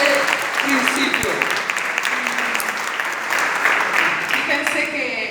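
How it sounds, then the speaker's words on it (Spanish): Church congregation applauding for the Lord during a live Spanish-language service, a steady wash of clapping across the whole stretch with voices mixed in. "¿Cuánto le dan un aplauso al Señor por esto?"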